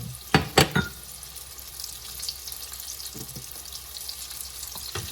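Battered chicken pieces dropping into hot oil, a few sharp splashy bursts at the start, then a steady, moderate crackling sizzle that keeps going with small pops and no talking.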